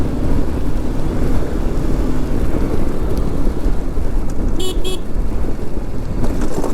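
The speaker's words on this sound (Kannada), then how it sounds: "ಅಯ್ಯೋ ಮಳೆ ಜೋರಾಯಿತು." Heavy rain pours during a BMW G310GS motorcycle ride from Bangalore to Chikmagaluru, a loud, constant wash of noise with a brief horn toot partway through.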